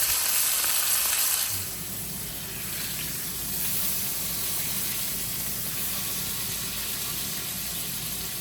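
A tomahawk steak sizzles steadily in a hot pan, a loud continuous frying hiss that swells after a brief quieter start and carries on alone with no talk.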